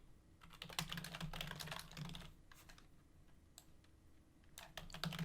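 Steady bursts of typing on a computer keyboard while coding a tower defense game, quick clustered key clicks with short pauses, close and fairly quiet, no talking.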